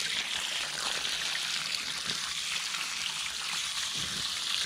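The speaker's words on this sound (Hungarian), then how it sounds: "Először mindig a dréncsövet megtöltöm, mert ez teljesen lemegy a fa alá." Water pours steadily into a drainage pipe sunk in the soil beside a walnut tree in an orchard, a continuous close rushing and gurgling hiss with no pauses.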